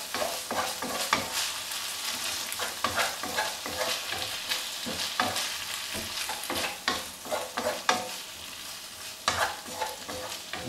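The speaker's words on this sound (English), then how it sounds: "add in all the vegetables and the garlic that we put on top of that. And just mix that around." Vegetables and garlic being stirred in a hot frying pan for spaghetti bolognese, a steady crackling sizzle broken by repeated scraping and clattering strokes of the spoon, close and continuous.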